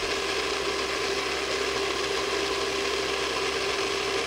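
A food processor motor runs as olive oil is added to emulsify a mixture, a steady close whirring drone with a fixed hum that stays constant throughout.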